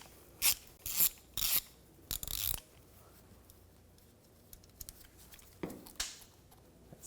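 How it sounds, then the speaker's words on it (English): A ratchet with a 10mm socket loosens a nut under the hood of a 2013-2019 Ford Escape 2.0L during a starter replacement, giving several short bursts of clicking close up, then quieter fiddling and a couple more clicks. "Using a 10mm socket, take this nut off."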